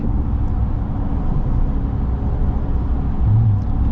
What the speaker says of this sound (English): Love that Hellcat. Such a good sound.